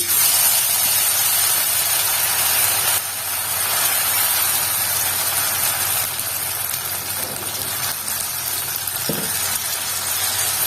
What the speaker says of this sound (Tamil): நான் இப்ப அரைச்சி வச்சிருக்கேன்ல இந்த அடை மாவை வந்து நான் கொட்டிக்கிறேன்